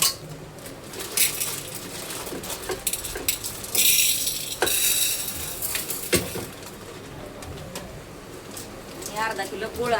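Dry chana dal pours and rattles into a metal pressure cooker in quick bursts of clatter, with scraping and clinks of utensils between them at close range.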